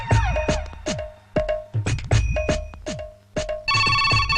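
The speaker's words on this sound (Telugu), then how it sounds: "అర్ధరాత్రి ఫోన్ ఏంట్రా బాబు" A telephone rings at midnight, its electronic ringtone sounding in repeated sharp bursts, loud and near, with no talk over it.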